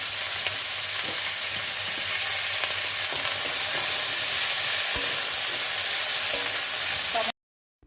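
Vegetables with aubergine, sesame, green chillies and beans fry in a pan, keeping up a loud, dense hiss with sporadic stirring taps for about seven seconds before cutting off abruptly.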